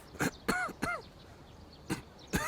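Several short, sharp coughs and throat-clearing bursts, spaced irregularly with quiet gaps between them, fairly close.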